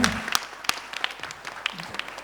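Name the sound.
audience clapping as birthday wishes at a concert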